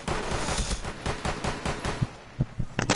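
Rapid gunfire in the Rainbow Six Siege video game, a loud continuous stream of overlapping shots with a few sharper single bursts near the end, with no talking.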